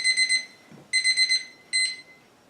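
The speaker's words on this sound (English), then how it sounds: "our timer is almost ready to go off now" A kitchen timer alarm sounds in three bursts of fast, shrill beeping with short gaps between them, loud and near, in a quiet kitchen.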